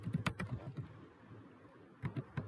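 Clicky keystrokes on a computer keyboard while entering HTML code, with quick bursts of taps at the start and again near the end, separated by a quiet pause.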